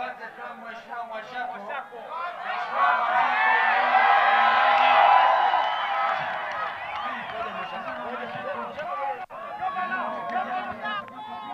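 A large outdoor political rally crowd in Taita Taveta swells into cheering, whooping and clapping that peaks midway and then settles. Lively voices and chatter run throughout.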